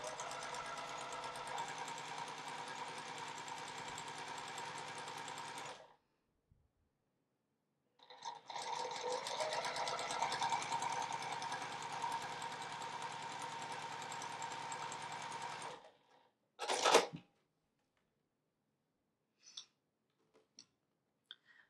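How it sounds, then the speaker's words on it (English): A sewing machine stitches a quilt block along a taped line in two long, steady runs separated by a pause, followed by a brief burst and a few faint clicks. "we need to get those stitches going along the other side of that imaginary drawn line, line up along the tape, and sew"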